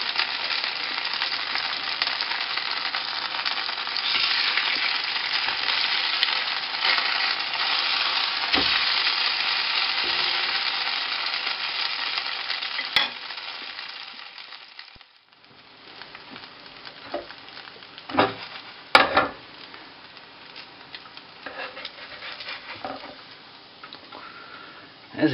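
Breaded pumpkin and sweet potato vegetarian schnitzel sizzles steadily in a frying pan, a loud continuous hiss that dips briefly midway, then returns with sharper crackles and pops.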